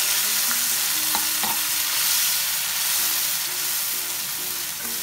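Mint leaf paste hits hot oil with garlic and a torn dried chilli in a pan, giving a loud, steady frying sizzle that holds evenly throughout with faint stirring scrapes.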